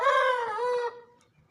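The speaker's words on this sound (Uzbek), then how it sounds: "ketdik kichkina jo'jalardan bir tomosha qilaylik" Young chickens give one clear, drawn-out call that lasts under a second, close by and followed by quiet.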